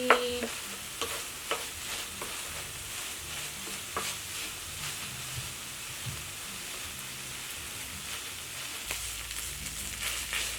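Kimchi fried rice with cheese and corn stirred in a pan, a steady sizzling hiss under repeated scraping and tapping strokes of the spatula, close and continuous.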